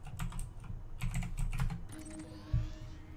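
Short bursts of typing on a computer keyboard, a few quick clusters of crisp key clicks close to the mic, followed by a faint electronic interface tone, entering a system search in Elite: Dangerous.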